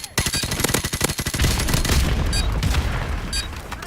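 Rapid automatic gunfire in Call of Duty: Modern Warfare Remastered, a loud close burst of evenly spaced shots that gives way to booming, rumbling battle noise.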